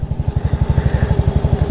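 Yamaha Fino classic motorcycle engine idling up close, a steady rapid low chugging pulse with faint mechanical clatter, loud and alone with no talk.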